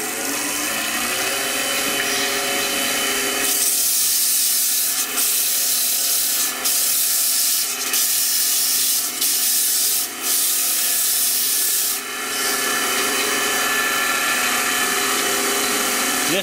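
Wood is hand-sanded with roughly 220-grit paper, a close, dry hissing rub that runs steadily with rhythmic back-and-forth strokes and brief pauses between passes.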